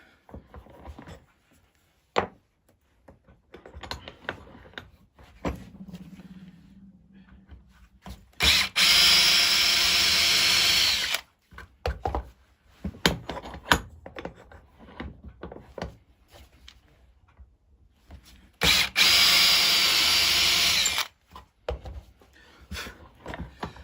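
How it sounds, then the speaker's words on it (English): A cordless drill whirs through wood in two bursts of a few seconds each, with quieter clattering and handling noises between and around them. "if you haven't got a drill press, then you can do all this with cordless"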